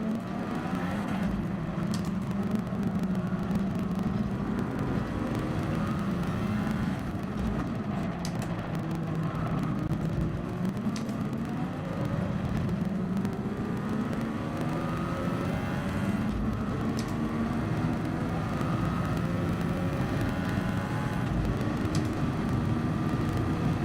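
Racing car engines in Gran Turismo Sport on PS5 drone and whine continuously, a steady, dense roar of several cars with no pauses and no talking.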